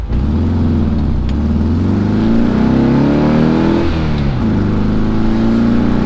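A VW car engine revs loudly and steadily while pulling out in third gear instead of first, its pitch climbing, briefly dipping near the middle, then rising again, with no voices.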